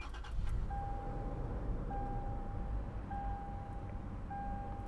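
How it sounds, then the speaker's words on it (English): A 2019 Toyota 4Runner 4X4 Nightshade starts by push button, its engine catching and then idling low and steady while a soft chime beeps at a regular interval, about four times, inside the cabin. "Just put your foot on the brake and press your button to start."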